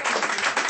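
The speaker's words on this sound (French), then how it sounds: "ça demande des tonnerres d'applaudissements" Brief burst of crowd applause, dense steady clapping from many hands, loud and close, lasting under a second.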